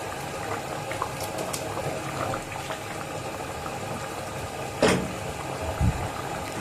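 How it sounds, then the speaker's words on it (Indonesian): Black glutinous rice porridge bubbling at a boil in a pot, soft continuous simmering with scattered pops and gurgles, plus one brief louder clatter near the end; no one talks. "Ini udah mendidih."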